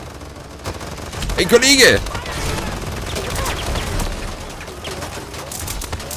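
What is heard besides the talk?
machine gun firing in the video game Paladins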